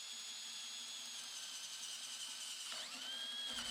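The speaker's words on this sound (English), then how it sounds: "These holes will help to direct a 28mm spade bit, which is what I'll be using to drill out the holes." A power drill with a 28mm spade bit bores holes through wood, a steady high whining grind that holds close and even, then shifts pitch near the end as the bit cuts through.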